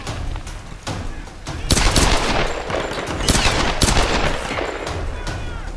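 Rapid bursts of gunfire from the Tomb Raider video game, played on hard difficulty, crackle in dense volleys with several sharp louder shots over a continuous background, while a player talks under the shooting.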